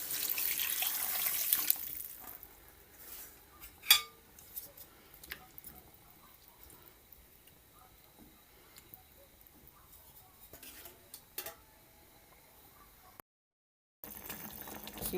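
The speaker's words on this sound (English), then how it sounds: "Pour in some water." Water poured into a pot of Jamaican curry chicken, a rushing splash at the start, then quieter bubbling and occasional utensil knocks, close by with brief silence near the end.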